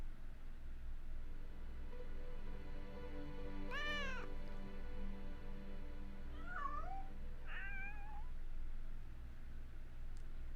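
Cats in the video game Shadow of Destiny let out a single clear meow followed by two shorter mewing calls, moderately near, above a steady low ambient hum with no talking.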